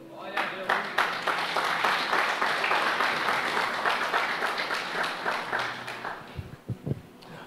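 Church congregation applauding during a sermon, a dense, sustained wash of clapping that holds steady for several seconds before tapering off, with a voice breaking in near the end.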